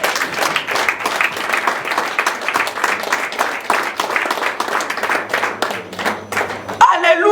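A church congregation claps and applauds together during a Sunday worship service, a dense, steady wash of hands that runs loud and continuous before breaking off near the end.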